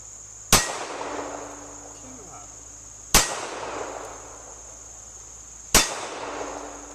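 Three loud, sharp gunshots from a Tisas 1911 .45 pistol fired outdoors a few seconds apart, each a crisp close crack with a short echoing tail and a steady insect-like hum in the background.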